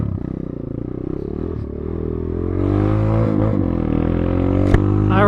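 A Kayo K2 230 motorcycle engine with its stock muffler idles and revs up as the bike leaves a shop, a close, loud, rising engine note with a short clatter near the end.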